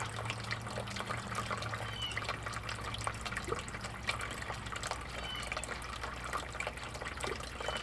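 Water runs steadily through a home-made gold sluice used for recovering precious metals, a soft continuous trickle and splash close by, alone with no talk.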